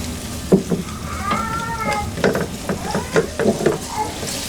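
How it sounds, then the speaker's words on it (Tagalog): Garlic sautéing in a frying pan gives a steady, moderate sizzle, with utensil stirring clicks and scrapes over it. "So next step po natin, magigisa natin ng bawang."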